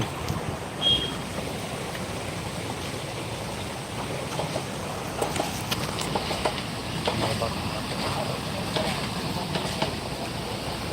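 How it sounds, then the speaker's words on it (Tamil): A small waterfall in Krishnagiri gives a steady, broad rush of flowing water close by, with people talking over the continuous splashing. "டிச்சி இல்லைங்க வாட்டர் ஃபால்ஸுங்க"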